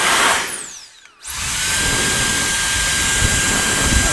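Solareye rechargeable electric air duster fan, a loud high whine that spins down almost to silence and then rapidly winds back up to a steady roaring whirr, close and continuous.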